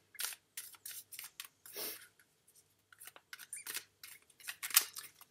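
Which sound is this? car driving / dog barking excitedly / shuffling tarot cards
shuffling tarot cards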